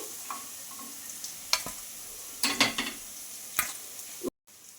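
Sago breakfast cakes roasting in a pan without deep frying, a faint low sizzle with several sharp scrapes and clinks as the cakes are turned, close by, with no talk.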